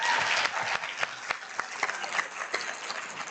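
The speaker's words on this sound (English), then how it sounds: "Let's give him another round of applause." A conference audience gives a round of applause after an investment presentation, a dense wash of clapping with a few sharper individual claps standing out, moderately loud and easing slightly toward the end.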